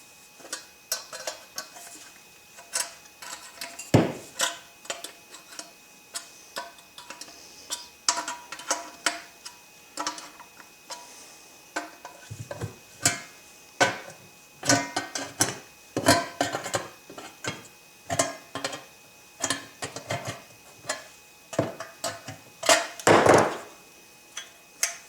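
Metal tabs of a stove piece being bent by hand for a DIY wood stove, scattered sharp clinks and metallic knocks at irregular intervals, fairly close, with a denser cluster of clanks near the end.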